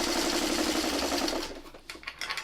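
Domestic sewing machine stitching a framed sawtooth star quilt block, a steady fast mechanical whir running loud and close, then slowing and breaking into a few uneven clicks and stops near the end.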